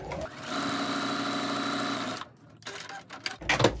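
A sewing machine quilts a zipper pouch, stitching in a fast, steady run for about two seconds before stopping, followed by quieter handling and rustling sounds.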